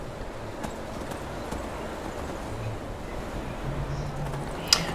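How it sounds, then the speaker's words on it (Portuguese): A horse gallops in the video game Skyrim, its hooves beating a steady, fairly quiet clip-clop rhythm under ambient game sound, with a brief sharp click near the end. "Vamos pegar nosso cavalinho e seguir a viagem."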